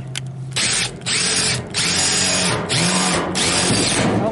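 Power drill driving a self-tapping roofing screw, loud and close, whirring in several bursts of about a second with brief pauses between them and the tone shifting as the screw bites in.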